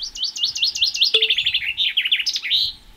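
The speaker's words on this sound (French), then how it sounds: "Le premier, c'est un peu le modèle de base chez les fringilles, c'est le pinson des arbres." Common chaffinch singing, a series of bright, rapid descending trills repeated in quick phrases, close and clear with no voices over it.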